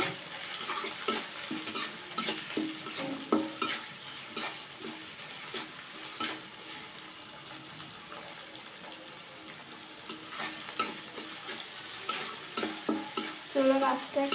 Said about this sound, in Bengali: তারপরে দেব 2 টুকরা তেজপাতা দিয়ে এটাকে সুন্দর ভালো করে একটু নাড়াচাড়া করে নেব।